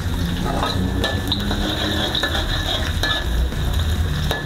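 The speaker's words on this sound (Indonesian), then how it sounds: "Sekarang kita tumis dulu bumbu-bumbunya. Nih, pertama-tama kita masukin dulu bawang putih." Garlic sautéing with spices in a hot pan, a close, dense sizzle with fast crackling and repeated scraping taps as the pieces are stirred.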